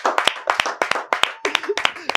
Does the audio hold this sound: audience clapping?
yes